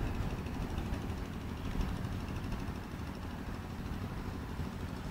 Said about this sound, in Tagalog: Nag-iba ang tunog ng motor eh.